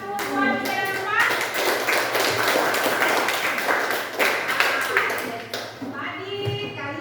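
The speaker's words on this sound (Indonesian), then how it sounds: "Oke, tepuk tangan buat kelompok 1," Classroom students clap together for their groups in a burst of busy, overlapping clapping lasting several seconds, with children's voices heard just before and after it.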